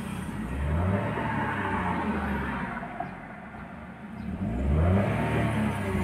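A Toyota Wigo with a lit check engine light and low power revs up twice during an RPM check, each rise and fall of the medium engine heard close and loud with no talking.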